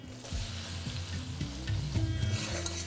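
Diced onions dropped into hot ghee with whole cumin and asafoetida give a soft, steady sizzle, fairly quiet, over a low tonal hum.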